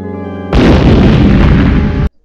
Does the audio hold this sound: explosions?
yes